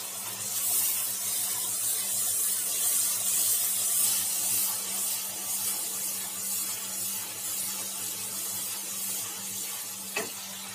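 Spice paste of ginger, garlic and ground coriander and cumin fries in a pan, giving a steady close hiss and sizzle throughout with faint stirring scrapes and a low background hum.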